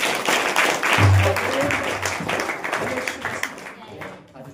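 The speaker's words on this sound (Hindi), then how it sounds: "ताली बजाएगा" A church congregation claps together during a worship service, the steady, dense clapping blending with voices and filling the room before fading slightly toward the end.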